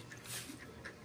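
A pet dog pants softly nearby in a home kitchen, quick faint breaths repeating in a short rhythmic run with quiet background noise.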